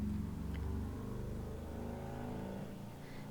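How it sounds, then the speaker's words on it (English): A steady low engine rumble from road traffic rolls past, with a vehicle revving nearby before fading slightly, continuous with no speech. "Sorry for the noise. I almost live on the road."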